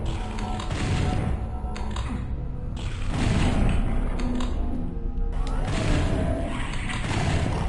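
A door mechanism grinds and creaks in DOOM 64, a sustained mechanical rumble with scraping texture lasting several seconds amid game noise, fairly loud and steady.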